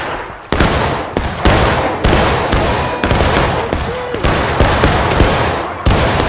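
Musket volleys from an infantry line firing at will in a historical battle video game: loud, dense, ragged gunfire with shots overlapping continuously, close and echoing, and no voices.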